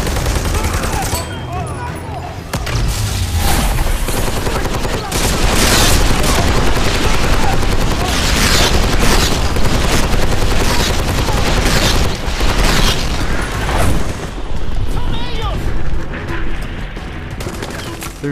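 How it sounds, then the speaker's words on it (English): A dense barrage of gunfire from the Army of Two: The Devil's Cartel video game, with rapid automatic bursts and booming impacts that run continuously and loudly for the whole stretch. "the barrage of fire destroying the world all around you"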